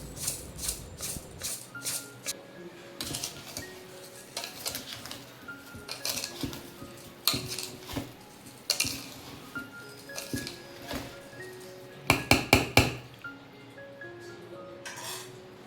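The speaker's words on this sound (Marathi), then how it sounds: "आता ह्यामध्ये साखर घालून घ्यायची आहे आणि व्यवस्थित असं मिक्स करून घ्यायचं आहे" Amla pieces are stirred with sugar in a pot, giving a run of close, irregular metallic clinks and scrapes from a spoon against the pot, with a denser flurry of clatter near the end.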